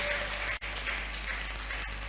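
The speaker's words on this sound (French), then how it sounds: "On acclame très fort pour notre Dieu" Loud, steady applause with cheering fills a prayer service congregation, a dense wash of clapping that barely dips for a moment before continuing unbroken.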